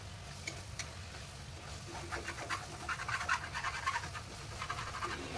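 Spices for a vegetable biryani fry in a little oil in a pressure cooker, giving a soft steady sizzle with light scraping and stirring that picks up in the second half.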